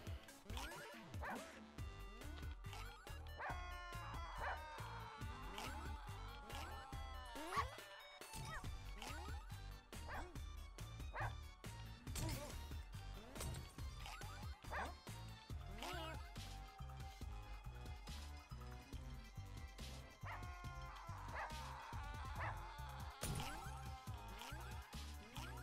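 Dogs in a Russian subway bark, yip and whimper in quick, repeated bursts over dense, busy background noise that stays loud and continuous throughout.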